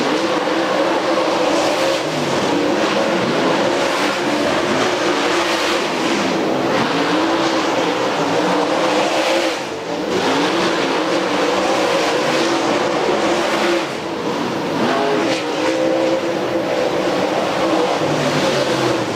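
Late Model race cars running hot laps at Kankakee County, a continuous loud roar of several engines revving and passing, sustained throughout with slight swells as cars go by.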